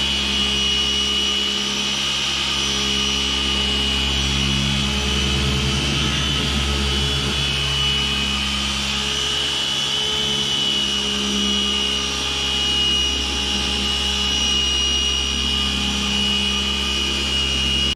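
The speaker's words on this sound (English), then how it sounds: "I'm gonna do a little color sanding and buffing on it." A power buffer works steadily on the freshly painted body of a 1984 Ford F250 4X4 during color sanding and buffing, a continuous whining motor drone with a low hum, unchanging and close.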